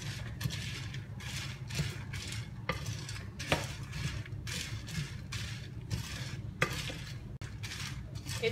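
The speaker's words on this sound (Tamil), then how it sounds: "மெதுவா ஒரு 15 நிமிஷமாவது வறுத்துக்கிட்டே இருங்க." A utensil stirs and scrapes through toor dal, dried red chillies and fried gram roasting in a pan, giving repeated rhythmic scraping strokes over a steady low background hum, close and moderately loud.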